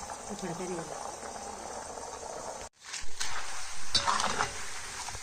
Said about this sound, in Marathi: आता थोडासा मिठाचं पाणी टाकायचं आणि मिठाचं पाणी टाकल्याच्यानंतर ना काळजी घ्यायची आहे